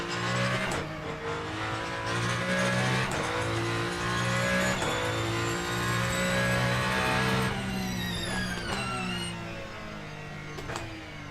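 A Ferrari race car engine in the racing game Le Mans Ultimate roars steadily at high revs with shifting pitch, gear changes and a brief tire squeal, loud and continuous throughout.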